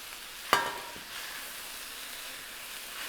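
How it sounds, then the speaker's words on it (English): Beef and vegetables for Philly cheesesteak stuffed peppers are tossed together in a frying pan, with a sharp clatter of the toss followed by a steady, close sizzle. "we're gonna dump all those veggies back to the mix. And we're just gonna toss them together"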